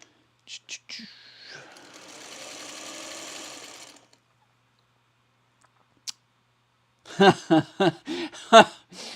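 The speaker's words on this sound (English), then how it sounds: "now we're going to sew these together" A sewing machine runs in one steady two-second burst as fabric pieces are stitched together, followed by silence, a single click and then close laughter and whispered chatter.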